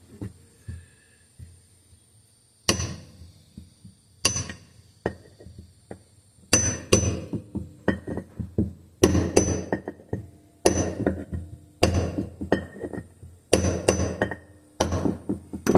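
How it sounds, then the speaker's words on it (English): A big socket taps a seal into place on a Briggs and Stratton engine, sharp metallic knocks close by, single at first, then clusters of repeated hits in uneven bursts with brief pauses between. "So I just use a big socket."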